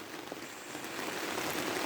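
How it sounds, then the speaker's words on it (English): Water drips inside a cheap polytunnel, making a soft, continuous patter like light rain on the plastic. It is faint and close by, with no voices. "Chinese polytunnel drips."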